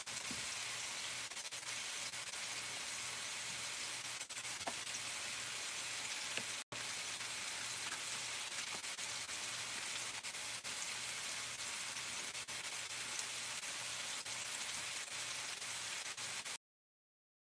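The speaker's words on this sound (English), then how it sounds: "I can saute the rest of the beef." Ground beef sautés in a pan during van cooking, giving a steady, even sizzle throughout with a brief dropout partway.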